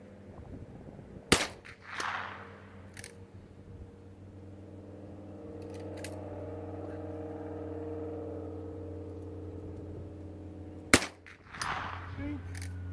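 An old Ithaca saddle gun chambered in .22 Magnum fires two sharp, loud cracks several seconds apart outdoors, with a quieter tap between them and a faint low hum underneath.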